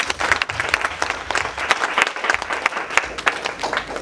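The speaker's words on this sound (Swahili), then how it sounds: "Piga makofi kwa Bwana Yesu." A church congregation claps for the Lord Jesus during a prophecy sermon, bursts of applause filling the room in an uneven, lively rhythm with no talk over it.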